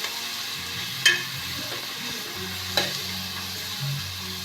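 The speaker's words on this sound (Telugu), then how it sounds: "కొంచెం అల్లం వెల్లుల్లి పేస్ట్ వేసి పచ్చి వాసన పోయేంత వరకు బాగా వేయించాలి" Ginger-garlic paste with mint fries in a pan for chicken biryani, giving a steady soft sizzle broken by two sharp clinks of stirring, with no voices.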